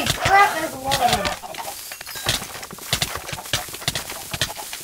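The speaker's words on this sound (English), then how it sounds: "Evil chickens!" Chickens cluck in a Minecraft game as a large swarm of them attacks, with short flapping and stepping clicks scattered throughout, while someone shouts over them.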